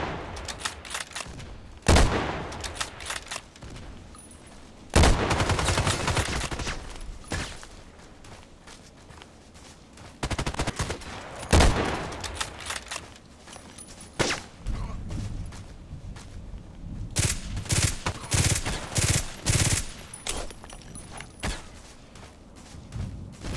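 Loud bursts of automatic gunfire and single heavy shots from a weapon in the online shooter Contract Wars, coming in clustered volleys separated by quieter gaps, with no talking.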